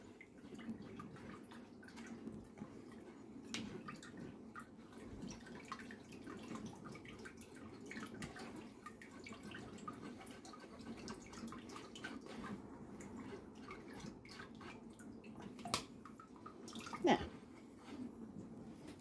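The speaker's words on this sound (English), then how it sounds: "Pour the rest of that through." Faint orange juice trickling and scattered drips through a sieve over a long stretch, quiet and close, with one louder splash near the end.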